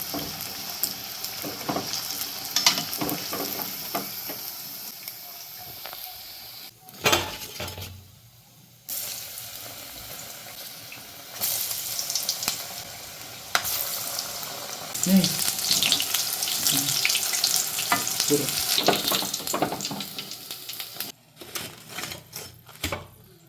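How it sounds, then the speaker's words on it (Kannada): Mirchi bajji, chilli fritters in batter, deep-frying in hot oil with a steady loud sizzle and bubbling, broken by brief clatters and pauses as the fritters are turned and lifted out. "ಸೊ ಇದೀಗ ನೀವು ನೋಡ್ಬೋದು ಆಲ್ಮೋಸ್ಟ್ ಫ್ರೈ ಆಗಿದೆ"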